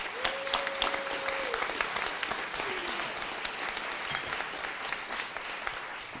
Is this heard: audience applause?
yes